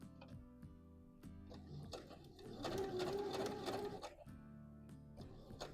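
A sewing machine stitching a gathering line on a McCall's M8141 dress, with short rhythmic bursts of needle clatter and a louder steady run in the middle, close up and without talk.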